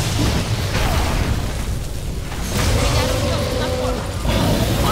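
A fire breath attack roars in the video game Evolve, a loud, dense blast of rushing flame lasting several seconds, mixed with other combat noise and a voice shouting over it.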